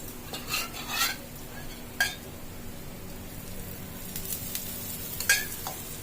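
Telangana sarva pindi rice-flour flatbreads roasting in a pan, with a soft steady sizzle and a few sharp clinks and scrapes of a utensil against the pan, close and fairly quiet.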